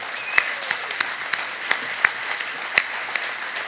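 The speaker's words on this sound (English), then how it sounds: "please, another round of applause." Audience applause, a steady wash of clapping with a few sharper individual claps standing out, moderately loud and continuous for a few seconds.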